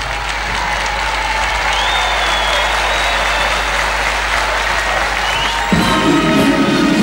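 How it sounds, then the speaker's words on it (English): An audience claps steadily and warmly for a band performing in Moscow, sustained applause with faint cheers, growing slightly louder near the end. "you have them clapping"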